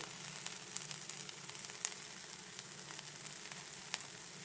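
Masala powders of coriander, Kashmiri chilli, black pepper and garam masala roast in a pan for a clam meat roast, giving a steady, quiet sizzle with faint scraping stirs and no talk.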